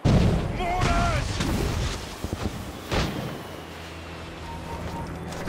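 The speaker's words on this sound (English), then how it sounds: "Mortars!" Mortar fire in the video game Assassin's Creed Rogue: a loud opening blast, then rumbling battle noise with further thuds and booms, under shouting voices and game sounds.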